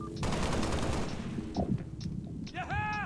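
Rapid gunfire from the Halo Reach video game rattles in close bursts, followed by a few scattered single shots and electronic weapon chirps, with brief voices mixed in.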